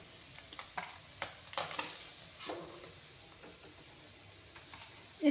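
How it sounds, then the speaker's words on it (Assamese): Pieces of fish crisping in hot refined oil, a soft continuous sizzle broken by scattered crackles and brief spatters nearby, with a louder clatter at the very end. "ধুনীয়াকৈ মৰমৰীয়াকৈ ভাজি লৈছোঁ মাছকেইটা।"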